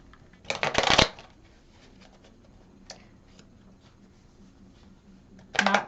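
Tarot cards riffled in a shuffle, a loud burst of rapid papery patter near the start and another at the end, with faint small taps and handling noises in the quiet between.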